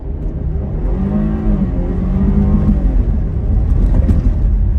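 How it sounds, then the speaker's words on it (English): A 2021 Jeep Grand Cherokee L engine held at full throttle in sand/mud mode, a loud, steady close drone with the pitch climbing slightly and wheels spinning, no voices. "So let's kick it into sand mud, and I'm gonna floor it."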